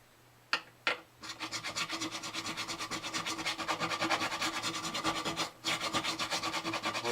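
A file scrapes the frets of a StewMac HD-28 guitar kit in steady, rhythmic back-and-forth strokes, close and fairly loud, after a couple of sharp knocks at the start.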